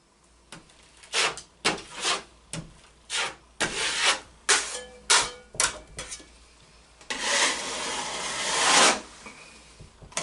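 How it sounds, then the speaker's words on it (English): A putty knife spreads a thin second coat of all-purpose joint compound over a drywall patch, a string of close scraping strokes with short pauses between them, then a longer continuous smear near the end. "you apply a second thin coat, and you would apply the all-purpose joint compound a couple inches past the patch."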